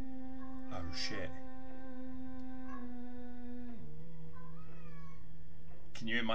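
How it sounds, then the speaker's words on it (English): A cat meows and howls nearby in drawn-out, wavering cries, with a couple of sharp calls early on and another near the end over a steady electrical hum. "Can you hear my cat in the background?"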